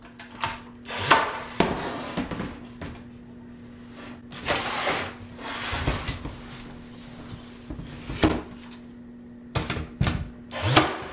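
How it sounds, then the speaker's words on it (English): Baseboard is nailed in place on a kitchen island in a mobile home: irregular sharp knocks and clattering bursts with quiet gaps between, close and fairly soft. "I'm going to go ahead and put the baseboard down again and nail that in place"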